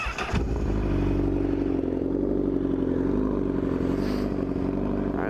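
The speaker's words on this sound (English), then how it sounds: "let's get a warm start up here and a couple revs for you guys" A motorcycle fitted with a Toce exhaust idles on a warm start, a loud, steady, deep burbling drone after a brief clattering start, with slight swells of revving.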